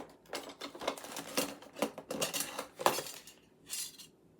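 Metal kitchen utensils, a butter slicer and an apple slicer among them, clink and rattle as they are sorted by hand, a quick run of close, bright clatters and taps with short pauses between.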